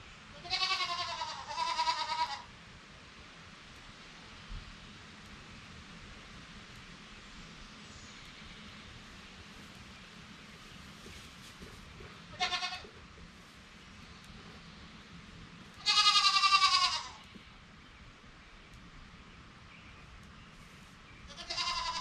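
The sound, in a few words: baby goats bleating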